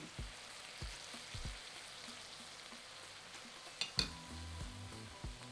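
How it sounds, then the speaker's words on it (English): Szechuan chicken with soy sauce, rice wine, chili bean paste and sugar sizzles and fries in a pan, a soft steady crackle broken by occasional utensil knocks, with a louder clatter near the middle. "Stir together and fry for another minute."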